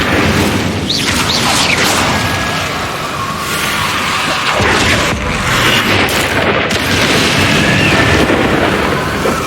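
The Confringo blasting spell erupts in Hogwarts Legacy with loud, booming explosions and deep rumbling that swell and crackle across several seconds, overlapping into a dense, roaring din with no speech.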